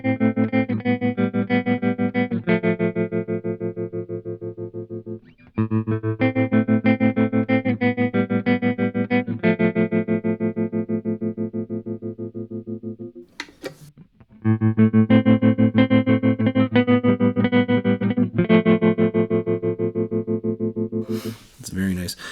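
Guitar played through a MayFly Terrain tremolo pedal with the depth turned up, sustained chords pulsing in a steady deep throb, cut by two brief pauses, clear and alone.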